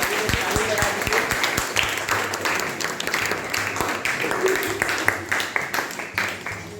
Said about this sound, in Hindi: एक पल्लवी के लिए ताली होना चाहिए।